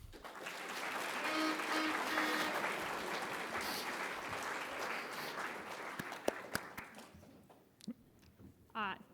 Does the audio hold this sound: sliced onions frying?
no